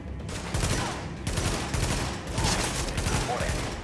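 Rapid bursts of gunfire from a third-person shooter game, The Division, set in Brooklyn, with sustained automatic fire and overlapping shots filling the whole clip at steady loudness.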